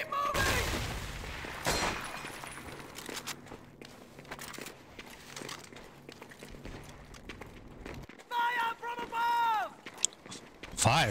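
Gunfire rings out in Medal of Honor: Vanguard during the A Shallow Grave mission, with a loud burst at the start followed by scattered, sporadic shots and cracks, and a voice speaks near the end.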